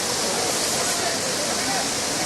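Five Falls waterfall at Courtallam in Tenkasi, a steady, loud, dense roar of falling water filling the whole clip without a break, with crowd voices faintly mixed into the wash at night.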